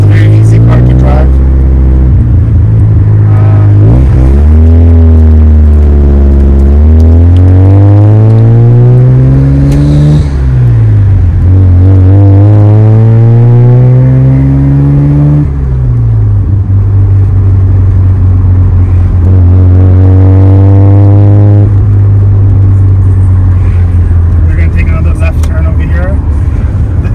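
A modified 1980s Mazda RX-7 FB driving, with its engine droning loud and close and the revs climbing and falling through gear changes and a turn, while someone talks over it throughout.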